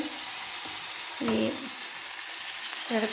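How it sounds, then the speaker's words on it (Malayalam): Food fries in hot oil in a pan, with an even close sizzle and a couple of brief bursts where pieces are turned over; nobody speaks. "അങ്ങനെ എണ്ണയിൽ കിടന്ന് തിരിച്ചും മറിച്ചും ഇട്ട് മൂപ്പിക്കണം."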